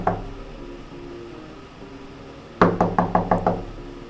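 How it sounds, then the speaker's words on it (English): A door knock, six sharp evenly spaced raps in a quick run, loud and close, following a quieter stretch with a single faint tap at the start and a low background hum. "it was all interrupted by a knock"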